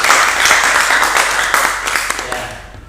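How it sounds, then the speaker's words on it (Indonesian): Classroom applause during a teaching session, a loud, dense patter of many hands clapping that holds steady for about three seconds and then fades out. "tepuk tangan dulu buat"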